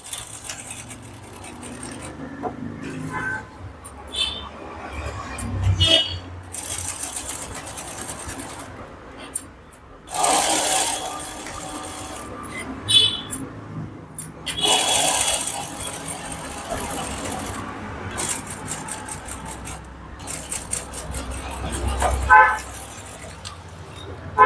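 Sewing machine stitching a collar onto a kurti, bursts of rapid mechanical whirring that start and stop in several runs, close by, with quieter handling sounds between them.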